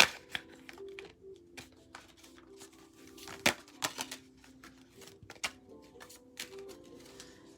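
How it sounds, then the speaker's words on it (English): Large tarot cards are shuffled by hand in quiet, irregular bursts of soft slaps and riffling clicks, close up with no talking. "These cards are so hard to shuffle, guys."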